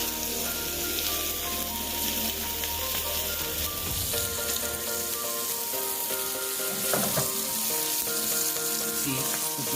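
Marinated jerk chicken fries in oil with a steady, close sizzle that continues for the whole stretch, under a sustained tonal background and without any talking.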